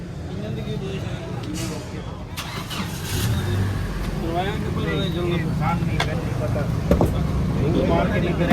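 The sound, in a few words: Toyota Hiace van engine running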